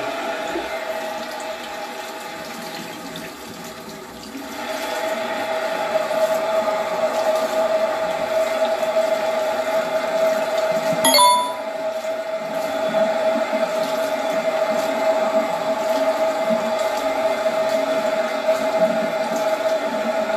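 Cold water running steadily from a tap indoors, a continuous close hiss with a brief clink partway through, no talking.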